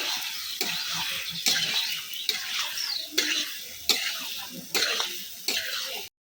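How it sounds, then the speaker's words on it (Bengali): A pan of potatoes spiced with Kashmiri chilli powder, with a little water added, sizzling and frying under repeated scraping stirs from a large spatula in a big wok, in steady strokes close by. "সামান্য একটু জল দেবো।"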